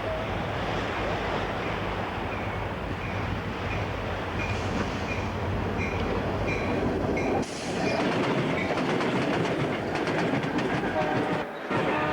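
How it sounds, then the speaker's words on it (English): Conrail freight train engines roll steadily along the tracks, a loud continuous rumble and roar with a faint rhythmic clatter of wheels, heard up close with no talking. "Let's watch as these next engines move quickly to take their cargo to market."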